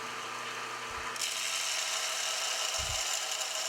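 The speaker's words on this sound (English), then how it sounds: "here's another piece of aluminum I'm going to take and put on my belt sander" A piece of aluminum pressed against a 40 grit belt sander, a loud continuous hissing grind that brightens after the first second, close and steady with no talking.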